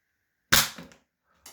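A Doublestrike toy blaster fires a suction-cup dart with one sharp, loud pop, followed a moment later by a softer second click in an otherwise quiet room.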